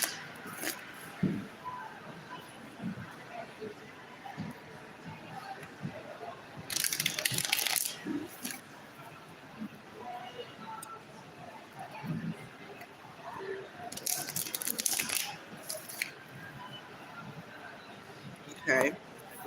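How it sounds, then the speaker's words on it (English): A deck of tarot cards is shuffled by hand at close range, two longer bursts of riffling and scattered soft card handling under quiet, intermittent talk. "Let me shuffle these cards."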